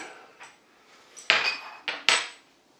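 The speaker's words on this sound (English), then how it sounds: "So we can just assemble our machine quickly." Metal parts of a meat mincing machine, including the cutter blade and mincing plate, clink and clatter as they are fitted together: a few faint scrapes, then three sharp, ringing metallic knocks close by.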